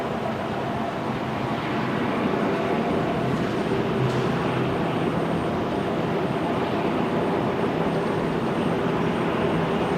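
A Royal Flying Doctor Service Beechcraft King Air turboprop departs from runway 01 left at Brisbane Airport at night, its engines making a steady, broad, continuous roar heard from some distance with no break.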